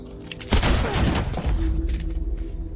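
A loud burst of booming gunfire-like blasts, a sharp heavy crack followed by rumbling impacts and echoing thuds, close and forceful.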